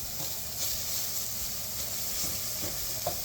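Garlic and capers sizzling steadily in a hot pan on the stove, a loud, continuous close-up frying hiss with occasional soft scrapes from stirring.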